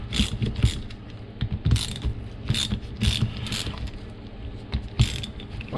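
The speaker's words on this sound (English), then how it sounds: "First we need a T30 ratchet." Repeated clicking ratchet strokes from a T30 ratchet working on a Continental high pressure fuel pump for a Vauxhall 2.2 litre petrol engine, close and crisp, in short irregular bursts with pauses between.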